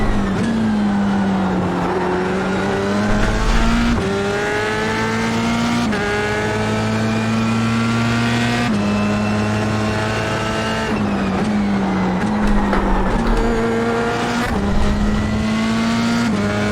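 Formula 3 race car engine at Sebring in iRacing, droning loudly and continuously through repeated upshifts and downshifts with rising and falling revs, heard from the cockpit with occasional tire noise.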